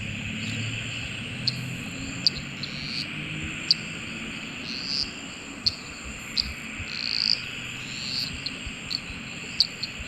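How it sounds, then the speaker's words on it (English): Two crickets chirp steadily in a rhythmic exchange, high-pitched and continuous, with sharper clicks popping through a soft outdoor background hiss. "the second social environment is the duetting behavior, where only 2 individuals are participating"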